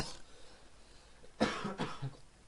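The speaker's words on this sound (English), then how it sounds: "Sorry, I'm coughing a lot." A person coughs a few times in quick succession during a Call of Duty: Modern Warfare 2 session, two or three rough, fairly close bursts over quiet room background, with no speech.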